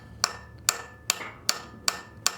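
Hammer tapping a 20 mm socket to seat a part into the engine block of a 1971 Datsun 240Z during an LS swap: six sharp metallic taps spaced evenly about half a second apart, close and clear.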